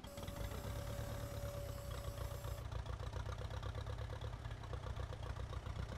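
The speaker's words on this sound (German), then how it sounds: "So hört sich natürlich der Traktor an." Massey Ferguson tractor engine idling in Farming Simulator 19, a steady low rumbling drone that holds even and loud throughout with no talk over it.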